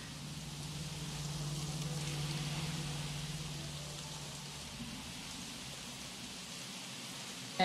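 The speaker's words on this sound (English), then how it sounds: "And it's raining." Soft, steady rainfall in the Jurassic World Evolution game, a faint continuous hiss of rain with a low hum underneath, quiet and even throughout.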